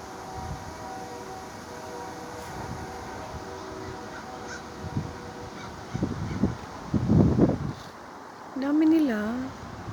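Seagulls and blackbirds in a school park, scattered bird calls and squawks rising out of a low outdoor rumble, with a louder wavering call near the end and a voice talking partway through.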